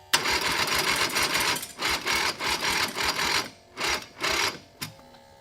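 A Turbo 670 V-twin engine with a new transmission and added chain cranks over in repeated bursts, a rapid, buzzing mechanical whir that starts and stops several times, each attempt cutting out before firing.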